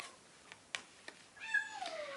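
A small cat gives a couple of short, soft meows, fairly close and clear against a quiet background, with a few faint clicks just before.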